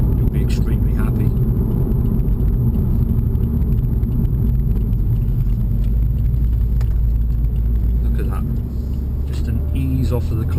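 A 2016 Subaru WRX drives along with a steady low engine drone and road rumble heard from inside the cabin, easing into second gear with no sharp rev change.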